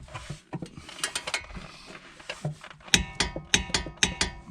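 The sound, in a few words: torque wrench tightening Nissan Maxima brake caliper bolts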